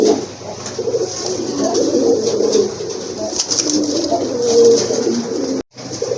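A pair of colourful pigeons coos in soft, throaty, repeated calls close by, over faint background rustle, with a brief dropout near the end.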